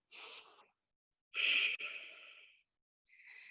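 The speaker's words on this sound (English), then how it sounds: "And we're breathing. Inhale. And exhale." Close, audible yoga breathing outdoors in a park while holding a pose: a short breath, then a long, strong airy inhale and exhale, and another softer breath after a pause, with no talking.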